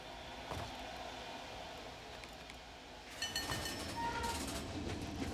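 Trains rattle along a track in Planet Coaster 2, a steady rolling rumble that swells into louder clattering and metallic squeals near the end, with some voice-like sound mixed in.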